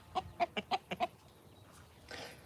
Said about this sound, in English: You think roosters only go cock-a-doodle-doo? No, they make that clucking noise.